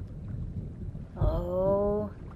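Distant thunder in the video game Myst III: Exile rolls as a low, steady rumble, with a soft tonal chime rising over it midway.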